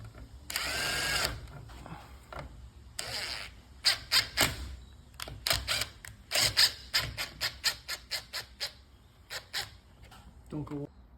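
A power drill runs in short bursts while bolts are fastened back into a garage door opener during a gear and sprocket replacement, rising to a rapid series of quick pulses, with brief rattles and clicks from the work.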